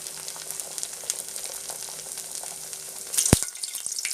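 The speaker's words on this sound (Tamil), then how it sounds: "இப்போ நம்ம வந்து தட்டி வச்சுருக்கிற தட்டை வந்து எண்ணெயில் போட்டு சுட்டு எடுத்துடலாம்" Thattai, flat rice-flake and gram-flour snacks, deep frying in hot oil with a steady close hiss of fine crackling, then a brief louder burst of sizzle near the end.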